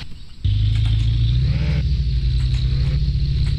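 An engine starting up in the car-flipping game Car For Sale Simulator: a brief crank, then a loud, steady, low idle that rises slightly and settles into a constant rumble, with no speech.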